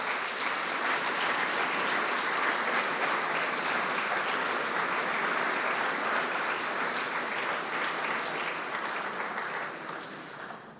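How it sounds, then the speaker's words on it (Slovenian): Sustained audience applause for the Cirkulane tamburica band at its 30th anniversary celebration, a full, even roar of many hands clapping that holds steady for about ten seconds before starting to fade. "Prosim za en aplavz."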